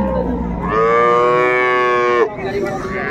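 A dairy cow at a rural cattle market in Dinajpur lets out a single loud, close moo lasting about a second and a half, over a background of low crowd murmur.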